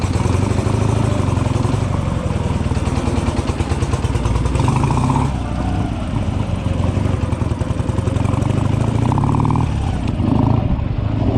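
A motorcycle engine runs steadily and loud as the rider shifts into first gear and pulls away, a sustained close-up mechanical drone with a clattering edge throughout.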